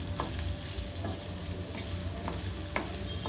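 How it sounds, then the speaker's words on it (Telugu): Garlic sizzles steadily in oil in a pan with a few soft stirring scrapes, no talking. "ముందుగా వెల్లుల్లిపాయ వేసుకున్నానండి అది కొంచెం వేగాలండి"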